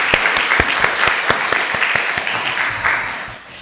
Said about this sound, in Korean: 수고하신 우리 모두 분들 또 영광 주신 하나님 앞에 큰 박수로